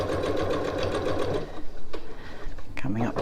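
Sewing machine stitching a reversible tote bag toward intersecting seams, a steady whirring run for about a second and a half, then breaking off into brief handling noises and short bursts.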